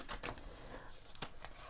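Side shuffling of a new, slightly stiff deck of oversized tarot cards, a few soft papery riffles and slaps, quiet and close.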